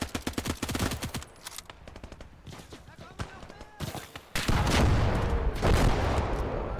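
Gunfire in the World War II video game Gates of Hell: dense rapid machine-gun bursts and scattered rifle shots, close and loud, ending in a heavy roaring barrage, with voices talking over the shooting.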